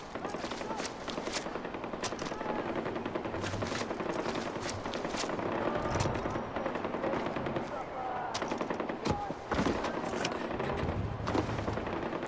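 Dense, continuous rapid gunfire in the video game Far Cry 4 during an outpost assault, with sharp bursts and occasional louder shots, like a chaotic firefight, with faint voices mixed in.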